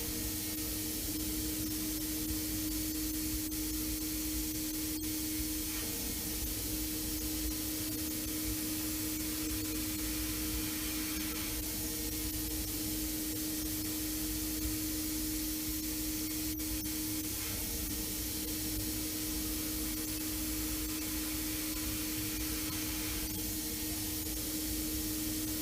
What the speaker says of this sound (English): It is taking continuous down milling path.